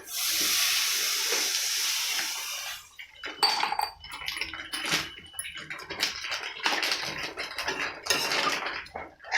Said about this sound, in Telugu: ఇదిగో ఇప్పుడు వాటర్ వేసుకుంటున్నాను.